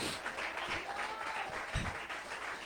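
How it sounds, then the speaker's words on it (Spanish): Faint, distant applause from a church congregation during a Spanish-language sermon, a soft continuous wash of many hands with low background noise. "Alguien que le brinde ese aplauso al Señor de gratitud."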